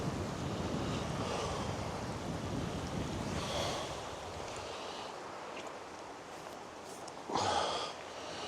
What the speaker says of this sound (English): That wind's starting to pick up now.